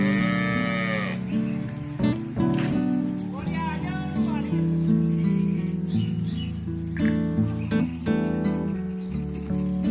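Sacrificial goats, including hill goats, at a livestock market for Qurbani bleat several times, loud and close, among the animals' shuffling, while someone talks over them.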